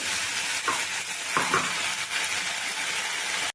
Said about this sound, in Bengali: মশলাটাকে এইভাবে কষাবো।